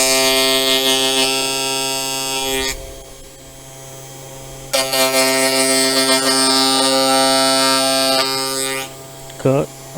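A Sainsmart Genmitsu 4040 Pro CNC router cuts tenon shoulders in loud, steady whining bursts, pausing briefly midway before resuming, then winding down near the end.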